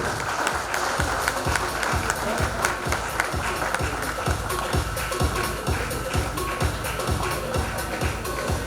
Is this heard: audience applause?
yes